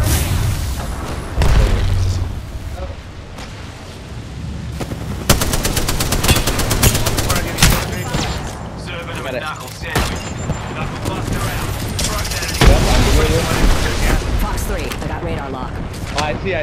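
Grenade blasts and rapid automatic gunfire in the video game Apex Legends, loud booms and dense bursts of shots overlapping through the whole stretch, with players talking over the action.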